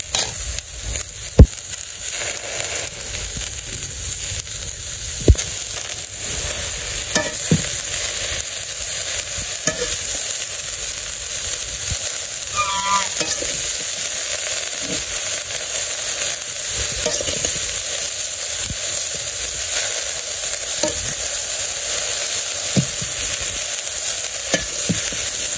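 Leafy greens fry and get stirred in a wok, with a steady sizzle running throughout and occasional sharp scrapes and knocks of the spatula against the pan, close and fairly loud, with no talking.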